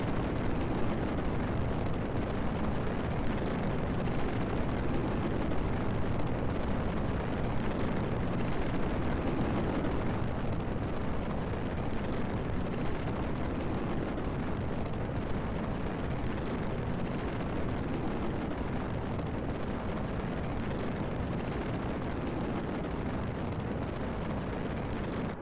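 A steady, dense roar of rocket boosters during a Kerbal Space Program launch fills the whole stretch at a constant level, broad and rumbling with no distinct separate blasts standing out.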